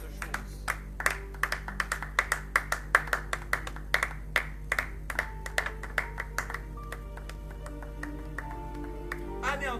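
A church congregation claps in a quick, steady rhythm during worship, a long run of sharp hand claps at moderate loudness over a low hum, thinning out toward the end.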